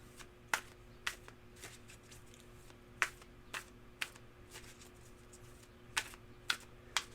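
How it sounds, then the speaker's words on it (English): Tarot cards being riffle shuffled, sharp quiet crisp bursts repeating at irregular intervals against a faint steady background hum, with no talk. "Let's give it one more good riffle."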